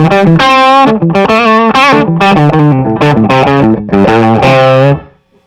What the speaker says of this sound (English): Here's the overdriven signal from the 2-rock.